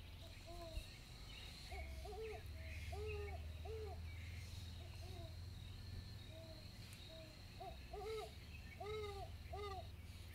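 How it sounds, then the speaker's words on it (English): Recorded great horned owl hooting from a bird song book, with several deep soft hoots in short groups and crickets chirping steadily behind them, moderately distant and quiet. "And then great horned owl"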